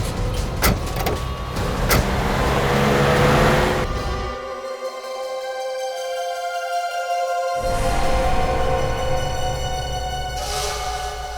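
A car door is handled near a vehicle as a man is forced inside, with a broad mechanical rush, a short muffled pause and then a renewed steady engine or door noise, with no one speaking.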